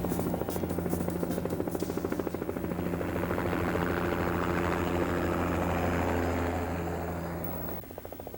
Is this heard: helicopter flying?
yes